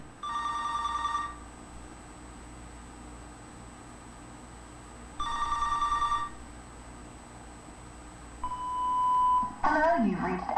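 A telephone rings twice in long electronic trills separated by several seconds of hiss, then a single steady beep sounds as an answering machine picks up, followed by a recorded voice starting the greeting.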